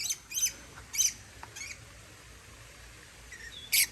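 Birds squawking at a zoo, a handful of short, sharp, faint calls spaced irregularly over quiet background, with no talking.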